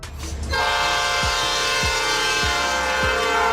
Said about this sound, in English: Freight train.